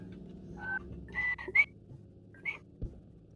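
A person makes several short, breathy whistle attempts in quick bursts, faint and uneven, with thuds and low background noise during Squad LAV gameplay on Nanisivik.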